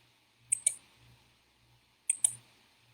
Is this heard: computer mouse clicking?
yes